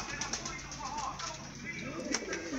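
Pigeons and pigeon chicks give soft, low coos in a close indoor setting, with some fluttering and faint scratching sounds around them.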